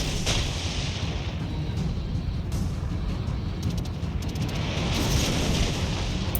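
Naval gunfire in the World of Warships Legends game, a dense rumble of booming cannon shots and explosions running throughout without pause, loud and continuous with brief sharp crackles layered on top.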